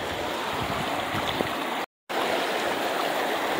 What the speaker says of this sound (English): the water flows a little slow